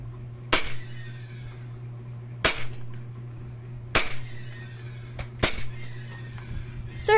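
An E&C Glock 18C airsoft pistol fires in four sharp, loud bursts spaced about 1.5 seconds apart, each a quick snapping crack with a short tail, over a steady low hum.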